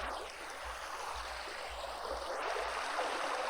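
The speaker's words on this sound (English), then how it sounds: "It is meant to be a stream." Flowing stream water in the Vintage Story survival game, a steady moderate rushing and trickling wash that holds constant throughout, with no talking.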